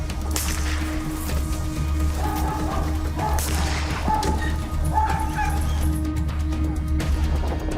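Several dogs bark and yelp continuously at a French Air Force kennel, a dense, loud chorus of overlapping barks close by, with sharp cracks mixed in.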